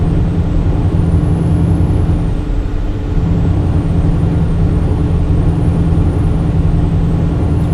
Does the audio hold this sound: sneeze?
no